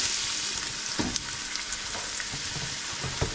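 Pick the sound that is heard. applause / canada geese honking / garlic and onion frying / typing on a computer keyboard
garlic and onion frying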